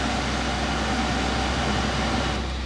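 A steady, loud rush of air from the air-conditioning fan on a high setting inside a 2018 Kia Sorento 2.0 diesel 4WD, a continuous broadband whoosh with no talking.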